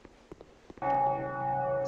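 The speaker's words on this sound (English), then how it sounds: "Hey, there's a bell!" A bell in Dark Souls II strikes once, suddenly and loudly, then rings on with a steady, bright sustained tone. A few soft thuds and footfalls come before it.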